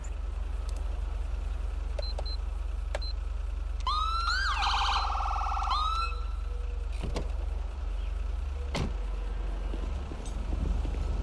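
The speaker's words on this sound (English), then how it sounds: "make sure the lights and sirens work" Police car siren in the video game GTA 5 during a state patrol, with short wailing and yelping bursts in the middle over a constant low engine hum, alongside brief electronic chirps and beeps.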